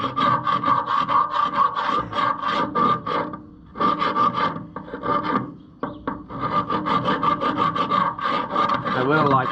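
Rust is scrubbed off the axle of an Oliver 1550 tractor with fast, rhythmic back-and-forth rasping strokes, loud and close, broken by a couple of short pauses.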